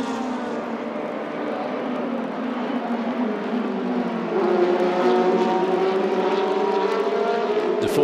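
Formula Renault 2.0 race cars at the Red Bull Ring, a loud sustained engine whine with harmonic drone that rises in pitch as the cars pass, continuous and close with no talk over it.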